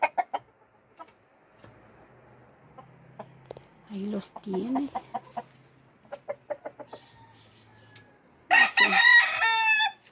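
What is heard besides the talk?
roosters crowing and clucking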